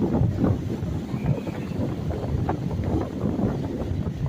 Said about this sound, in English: I'm sure that was pretty windy sounding.